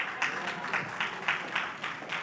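Audience applause at a company's annual general shareholders' meeting, a steady wash of many hands clapping with slight surges, moderately loud and filling the room.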